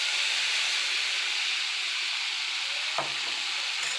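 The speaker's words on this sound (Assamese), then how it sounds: "এয়া মছলাখিনি এতিয়া তেলখিনিত ঢালি দিওঁ" Spice paste frying in hot oil in a home kitchen, a steady broad sizzle with a brief sharper clatter near the end, close and loud with no talking.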